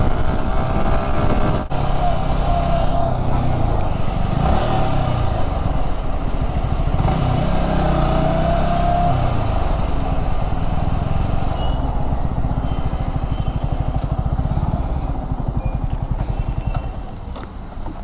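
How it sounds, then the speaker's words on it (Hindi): A motorbike is ridden on a road at night with the engine, which has been running hot, droning loudly and steadily as wind and road rumble fill the background. "यहाँ पे बाइक रात को तो लिमिट में ही भगाओ"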